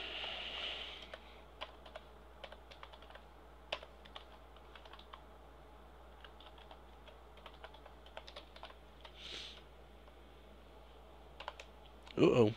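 Computer keyboard typing runs in quick irregular bursts of key clicks, fairly faint at a distance, with a sharp loud burst near the end.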